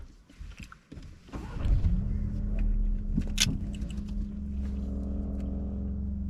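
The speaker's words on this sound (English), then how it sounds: "We just turned on the engine" A car engine starts and settles into a steady idle hum, following a few clunks and rustles inside the vehicle during a driving test in Leeds.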